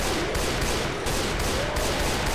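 Rapid gunfire in the zombie shooter Left 4 Dead 2, a dense stream of shots firing continuously at loud, close range.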